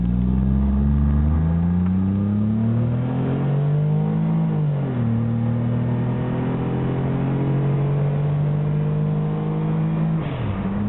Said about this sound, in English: I'm gonna try one more 0 to 60.